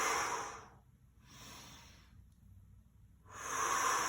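Heavy breathing during a dumbbell bicep curl: three slow, airy exhales and inhales alternating with pauses, close and fairly quiet, with no talk.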